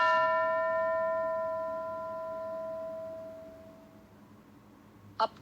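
A single bright bell strike rings out and decays slowly over several seconds in a quiet room, followed by a brief sharp click near the end.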